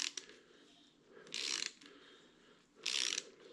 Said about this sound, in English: You kind of feel it and hear it cutting into those threads.